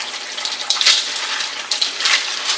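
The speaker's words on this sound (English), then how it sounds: "we're just basically going to take them and run them out under cool water" Dried beans rinsed under a running tap of cool water, a steady hiss of flowing water with small splashes as the beans are rubbed, close and alone without talk.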